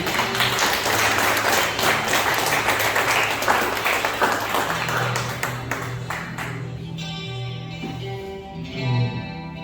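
A church congregation claps and applauds steadily during a worship service, then the clapping fades out as music and voices continue underneath.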